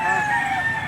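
At a chicken market in Lipa, Batangas, a rooster lets out one loud, sustained crowing call close by, with a mix of other fowl sounds beneath it.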